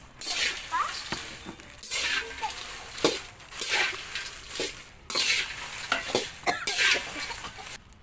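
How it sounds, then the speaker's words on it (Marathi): Red chillies being dry-roasted in a pan for Maharashtrian kala masala, with steady scraping stirs and a low crackle repeating in bursts throughout; the pan is close and busy. "आता बघा फक्त कशी मिरची भाजते."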